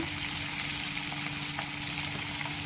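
Pork frying in a pan, a constant, loud, close sizzle with faint occasional crackles and no voices.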